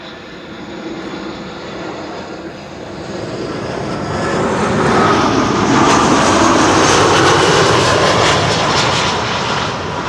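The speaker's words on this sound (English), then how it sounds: "This is Iberia, flight 731, arriving from Madrid, 1 hour 59 minutes on the way." An Iberia Airbus A320 from Madrid landing on runway 06, the Kaagbaan, at Amsterdam Schiphol, its engine roar building from a moderate hum into a loud, close, hissing rush that holds steady toward the end.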